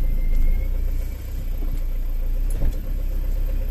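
Inside a moving car on a hot day, a steady low road rumble and engine hum fill the cabin, with a couple of brief knocks or bumps partway through and no talking.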